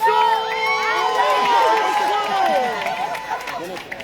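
A crowd at a Rwandan fan event claps and cheers to welcome a guest, loud and sustained, with shouts and whoops rising over the clapping and a voice heard among the noise.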